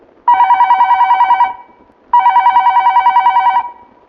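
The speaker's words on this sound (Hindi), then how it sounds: "तो हम फोन कर रहे हैं अभय जी को" Two bursts of a telephone ringback tone sound on an outgoing call, each a buzzy warbling ring of about a second and a half with a short gap between, loud and clear with no talk.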